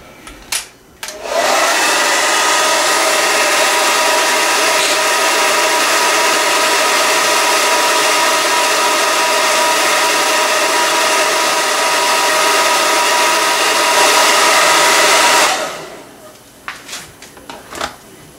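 A heat gun warms the trigger guard of a Kydex holster so it can be reshaped. Its loud, steady blowing roar runs unbroken for about fourteen seconds before cutting off abruptly.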